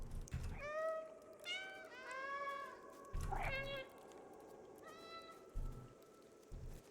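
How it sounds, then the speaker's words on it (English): Several cat meows from the video game Stray, each a drawn-out, clear, tonal call at close range, spaced irregularly with short pauses, some rising and falling in pitch, over low background thumps. "That was not the best meow that I've heard in my life."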